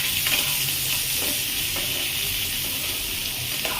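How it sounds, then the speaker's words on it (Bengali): Ridge gourd and potatoes fry in a pan with a steady sizzling hiss while a spoon stirs through them, scraping softly at intervals, close up with no talk. "ঝিঙেটা একটু নাড়বো"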